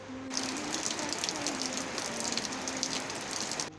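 Steady rain falls in a dense, even hiss close by, continuous and unbroken, with a faint low voice-like tone running underneath it.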